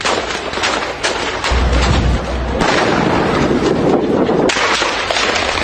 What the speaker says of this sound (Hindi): सेना पर ताबड़तोड़ फायरिंग करता हुआ नजर आ रहा है